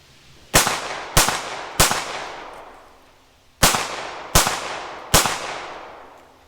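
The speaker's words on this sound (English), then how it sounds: "then I'll fire out 3 rounds, strong hand only, transfer the pistol to my weak hand and fire out 3 rounds weak hand only" Six sharp pistol shots from an R1 Enhanced Commander handgun on a law-enforcement qualification course, fired as two groups of three, each crack loud and close with a ringing decay, a short pause between the groups.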